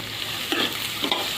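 Onion sautéing in a pan of melted butter while being stirred, with a steady soft sizzle and a few brief scraping bursts from the spoon, close and alone.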